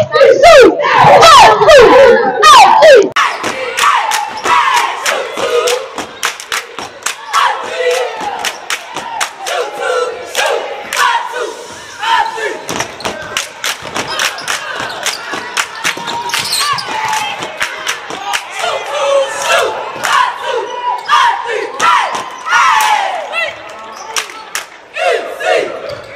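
A cheer squad yells rhythmic, shouted chants at a basketball game, with crowd noise and ball bounces around them in a loud, echoing gym, and bursts of chatter in between.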